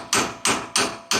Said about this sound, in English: then we resorted to using a hammer